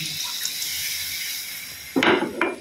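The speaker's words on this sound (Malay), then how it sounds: "kita masukkan sedikit air" Water splashes into a pan of fried chicken in two short bursts, loud and near, following a quiet hiss of cooking.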